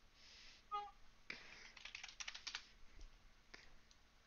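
Soft, quick clicks of typing on a computer keyboard come in an irregular burst, close and quiet, with a few scattered keystrokes trailing off.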